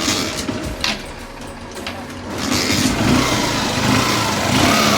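A rebuilt Honda CB Shine motorcycle engine starts up, with a few sharp bursts before settling into a steady, loud running drone that grows stronger toward the end.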